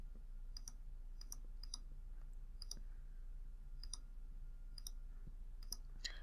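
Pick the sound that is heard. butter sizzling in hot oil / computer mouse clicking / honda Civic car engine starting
computer mouse clicking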